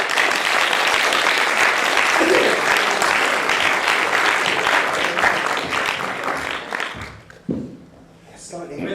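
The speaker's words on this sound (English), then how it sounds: "Not quite enough applause, I would say." Steady applause from a crowd, clapping continuously for several seconds before thinning out, with a voice speaking near the end.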